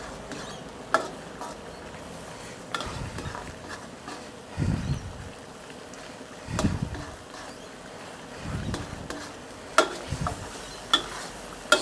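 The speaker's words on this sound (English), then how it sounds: "Just give it a final hot stir" A spoon stirs a thick, hot Chinese curry sauce in a pan, giving repeated scraping, sloshing strokes at an uneven pace, close up over a steady background hiss.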